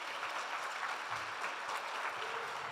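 Church congregation clapping together at a Brazilian evangelical service, a dense, even patter of many hands, fairly faint and distant, with no speech over it.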